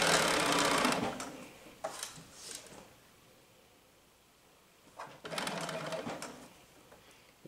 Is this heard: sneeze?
no